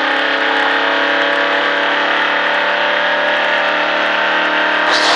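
A NASCAR stock car engine under steady acceleration, a loud sustained mid-pitched drone with a rising harmonic whine from inside the car, continuous with no talk.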